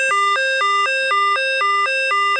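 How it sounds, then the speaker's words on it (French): An electronic alarm rings loudly and alone, a two-tone beeping that alternates rapidly between high and low pitches in a steady, repeating rhythm. "c'est une alarme qui est en train de retentir"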